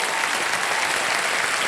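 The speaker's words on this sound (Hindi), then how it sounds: "एक बार फिर जोरदार तालियां बज जाए उनके लिए" Studio audience applause on the KBC quiz show, a dense, even roar of clapping that holds steady and loud from start to finish with no voices over it.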